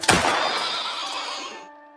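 A horse gives a single loud, close whinny with a sharp onset, tapering off over about two seconds into a fading ring.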